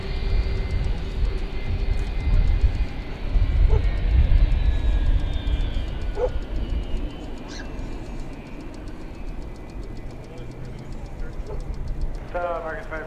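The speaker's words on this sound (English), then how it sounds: "Handsome aircraft." A jet aircraft at DFW airport rumbles steadily, low and broad, throughout, with a faint whine and scattered bird chirps while a voice speaks over it.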